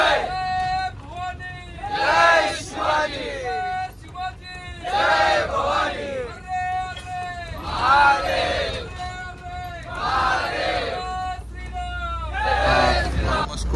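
Dense babble of a large crowd of pilgrims at the Raigad fort coronation festival, with loud overlapping voices and chanting surging in waves nearby, traffic rumble faintly underneath.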